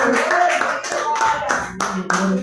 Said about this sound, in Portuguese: e as palmas que louvam o Senhor nesta noite